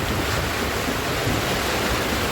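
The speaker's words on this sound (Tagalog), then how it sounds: "May bagyo na daw mga kalingap. Malakas yung ulan, no?" Heavy rain pours steadily during a typhoon, a dense, loud, unbroken hiss filling the whole stretch with no voices.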